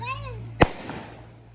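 A single firecracker bursts with a sharp, loud crack during a village Diwali celebration, followed by a brief fading rumble, with children's voices nearby before it.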